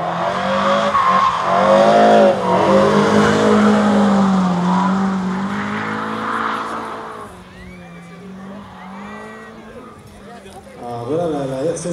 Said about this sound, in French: RCZ qui monte